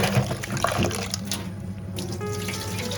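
Squid being rinsed under a running kitchen tap, a steady close splash of water into a sink flowing without a break, with no talk over it.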